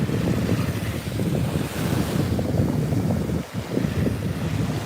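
Waves and wind at a beach in Fort Lauderdale: a steady, loud roar of surf with heavy wind buffeting the microphone throughout.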